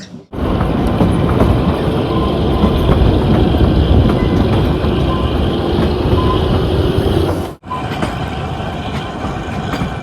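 The Kalka–Shimla toy train, a vistadome service climbing through hills, rumbles and clatters along the rails in a steady loud roar, broken by a sudden brief dip before continuing.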